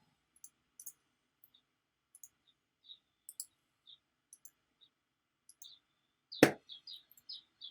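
A computer mouse is right-clicked at a desk while building a website. Soft single clicks come sparsely and quietly, with one louder knock partway through, followed by a few faint clicks.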